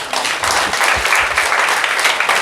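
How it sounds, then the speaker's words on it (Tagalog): A church congregation at a Sunday service claps together, a dense, loud and steady round of applause filling the whole stretch with no voices over it. "Palakpakan nga po natin yung ating mga sarili."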